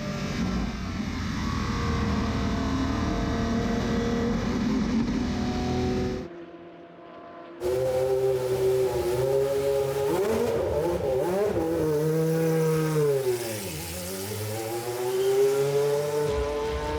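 A Group C endurance race car accelerates hard at the Spa circuit, its high-pitched engine rising through gears, breaking briefly, then screaming again with sweeping pitch changes as it passes, loud and close.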